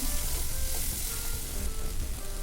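Fried okra stirred into a tomato mixture in a home kitchen pan, giving a continuous close sizzle with soft stirring movement and no talk.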